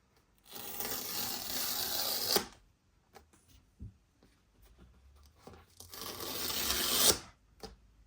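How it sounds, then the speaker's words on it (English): Protective wrapping on an iPad Pro 13-inch M4 box is peeled off in two long, loud ripping pulls, each lasting about two seconds. Quieter crinkles and small handling clicks fill the gap between them. "Let's get that peel sound that we all like."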